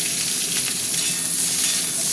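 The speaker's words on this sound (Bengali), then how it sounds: "প্রথমে ঝিঙেটাকে একটু ভেজে নেব, তারপরে তরকারিটা বসাবো।" Ridge gourd frying in hot oil in a wok, a steady, loud broadband sizzle that stays constant and close throughout with no talking.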